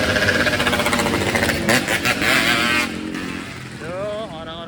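A motorcycle engine runs loudly and close by a street in Eger, Bogor, with a steady rumble that stays up for most of the stretch before easing lower. Voices can be heard talking over it.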